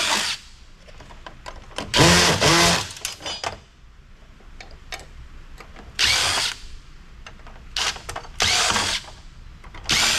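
A power driver backs screws out of the aluminum heat sinks of a stereo amplifier during e-waste scrapping, in three loud whirring bursts separated by quieter handling and clicking.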